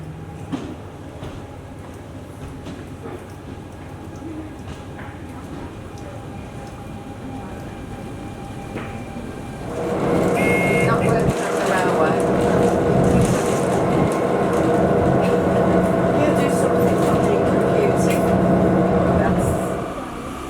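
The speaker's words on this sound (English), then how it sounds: "I'm just about to get a very unique train which I've been looking forward to for a long time to be able to ride" A train ride on the short line from Stourbridge Junction to Stourbridge Town: quiet carriage ambience at first, then the motor and wheels rise into a louder steady rumble with rattles and whine.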